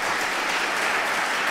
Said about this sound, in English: Let's give Dr. Montero a round of applause again.